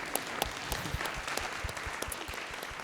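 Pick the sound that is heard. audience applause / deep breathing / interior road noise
audience applause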